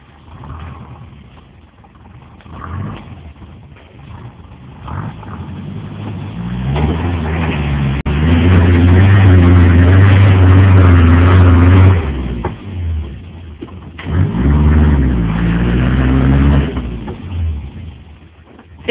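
Engine of a Subaru Brumby ute revving hard while driving through mud, rising from a low rumble to a loud sustained roar, easing briefly, then surging again close by.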